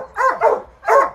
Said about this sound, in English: this is one of Chance puppies back there hiding